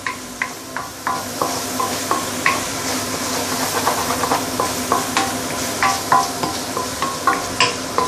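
Tofu stew with minced meat is stirred in a hot pan on high heat, with steady sizzling and frying under repeated scraping strokes of a utensil against the pan.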